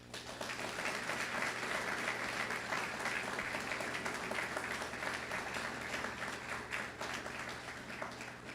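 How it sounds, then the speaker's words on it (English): A large audience applauds awardees at an awards ceremony, steady dense clapping that fills the room from start to finish with no pause. "give a hefty round of applause to all of the awardees"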